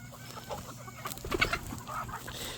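Several homestead chickens cluck in short scattered calls at moderate distance over faint outdoor background noise, with no voices.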